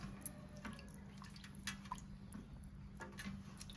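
Water trickles and drips steadily as boiled bharangi leafy greens are squeezed by hand, with small irregular splashes over a constant low hum.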